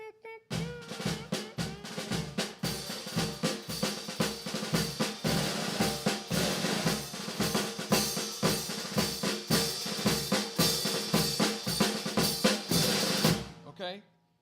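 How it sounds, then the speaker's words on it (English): Crisp snare and drum hits tap out a steady early-jazz march rhythm, with regular accented strokes running evenly throughout before stopping abruptly. "what you're hearing is a march"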